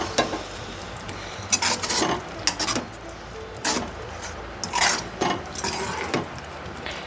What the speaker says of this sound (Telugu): ఇప్పుడు అన్నీ కలిపేలాగా ఒకసారి అయితే మొత్తం తిప్పేసుకుందాం